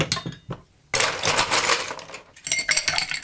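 Ice cubes clatter into a glass for a Blue Murder cocktail, with a few light clinks followed by a louder burst of rattling and tumbling cubes, then more scattered clinks.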